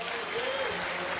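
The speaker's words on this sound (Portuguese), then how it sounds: "Você pode aplaudir ao Senhor." A church congregation applauds during a Portuguese-language sermon, a dense, continuous wash of clapping heard alongside a faint sung or spoken tone.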